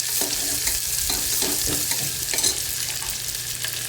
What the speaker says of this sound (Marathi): आता आपल्याला कांदा व्यवस्थित परतून घ्यायचा आहे